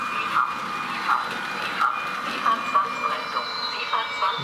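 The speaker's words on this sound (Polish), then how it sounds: "Uwaga, niech wjedzie w kadr lokomotywa." A small electric motor whirs steadily with faint rhythmic clicks and squeaks as a model locomotive rolls along a layout's track, fairly close and continuous.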